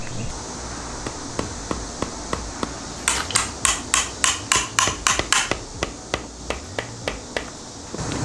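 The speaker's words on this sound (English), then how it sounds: "I've got a chisel and a hammer too" A hammer strikes a chisel into a tree stump for a side table: sharp metallic taps at a steady pace, then a quicker run of louder, ringing blows, before the taps slow again.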